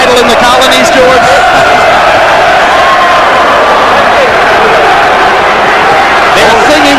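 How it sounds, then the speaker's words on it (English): A packed boxing arena crowd roars, sings and applauds in a loud, continuous wash during a Lennox Lewis heavyweight fight, with a commentator talking over the din. "They're singing upstairs. They're cheering downstairs. The applause is building."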